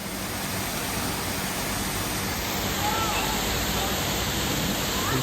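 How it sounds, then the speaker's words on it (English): A waterfall below a condo window in Jomtien, Thailand gives a steady, even rushing roar, constant and moderately loud with no breaks. "Oh, there's a waterfall down there."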